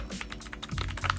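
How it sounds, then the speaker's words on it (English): Rapid, uneven typing on a budget mechanical keyboard priced under $30, a close, clacky stream of keystrokes with no talking. "I actually do like the typing on this keyboard more than I like these ones."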